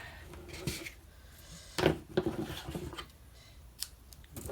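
Scissors cut a strip of tear-and-tape adhesive for a paper pumpkin craft, a few short close snips and crisp rustles with faint handling noise in between, with no talking.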